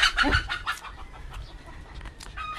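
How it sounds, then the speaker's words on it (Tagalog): A chicken clucks in short, scattered bursts over a busy, noisy background, fairly close and moderately loud. "May naligaw na manok."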